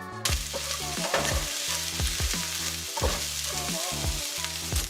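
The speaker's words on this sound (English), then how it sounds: "Turn this on high, use some avocado oil. I'm gonna toss in some of these onions first." Onions sizzle and fry in avocado oil on high heat, a steady crackling hiss broken by a few stirring scrapes, close and constant throughout with no talk.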